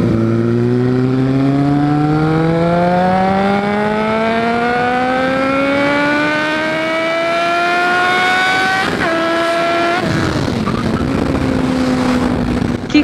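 A Suzuki Bandit 650S motorcycle accelerates hard on a mountain road, its engine whine climbing steadily in pitch, then a quick gear change and a lower-revving pull, loud and close with no talking.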